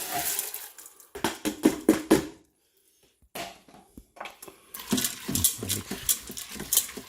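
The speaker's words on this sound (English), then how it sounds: "Now I'm gonna add washed rice and beans." Washed rice and beans pour into a pot with bacon, a patter of grains and beans hitting metal in close bursts, with a brief quiet pause before a longer second pour and clatter.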